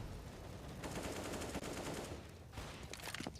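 Rapid gunfire in Counter-Strike: Global Offensive during a competitive match, dense bursts of automatic shots that come in clusters, fairly faint, with a sharper burst near the end.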